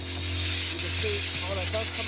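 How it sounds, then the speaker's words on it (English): Compressed air at 110 psi from an air compressor driven through a Tornador cleaning tool, blowing dust and sand out of a car: a steady, loud hiss and roar with a low hum beneath and faint voices. "what we'll use is the air compressor, which is right here, and we have the Tornador. Air compressor right now is at 110 psi."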